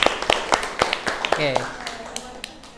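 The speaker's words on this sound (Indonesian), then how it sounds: "oke, tepuk tangan buat kita semua" A class of students in a school classroom gives a brief round of hand claps, sharp separate slaps spaced irregularly, with voices talking over them.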